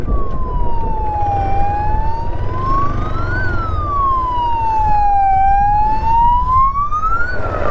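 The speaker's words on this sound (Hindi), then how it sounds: "एम्बुलेंस जा रहा है" A wailing ambulance siren rises and falls in long sweeps, close and loud, over a steady rumble of road traffic at dusk.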